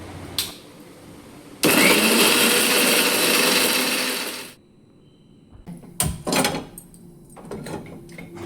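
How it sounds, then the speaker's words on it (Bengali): Kitchen blender grinding two tomatoes into paste, a loud steady motorized whir running about three seconds and then stopping, followed by scattered clunks and knocks of handling. "আমি 2টো টমেটোর কিছুটা টমেটো বেটে নিচ্ছি"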